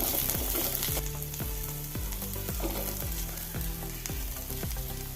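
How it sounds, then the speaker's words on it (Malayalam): Onion and ginger garlic paste sautéing in a hot pan, a steady close sizzle broken by regular rhythmic scrapes of a spoon stirring through the mix, with no voices. "ഉള്ളി ഒന്ന് വാടി വരുമ്പം ഇഞ്ചി വെളുത്തുള്ളി പേസ്റ്റ് കാൽ സ്പൂൺ ഇട്ട് കൊടുത്ത് അതുപോലെ ഒന്ന് മിക്സ് ചെയ്യുക"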